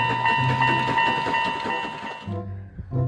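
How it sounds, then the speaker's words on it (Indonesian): Thomas toy train running continuously with a steady mechanical hum and bright tonal whistle-like tones, loud and close, briefly dipping before resuming. "Widih, yang ini panjang sekali, yaitu kereta api Thomas."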